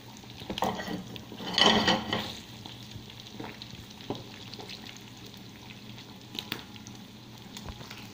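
Mojarra fish fillets frying in hot oil with onion and tomato, a steady soft sizzle with a louder burst of crackling early on and occasional scrapes of a utensil in the pan.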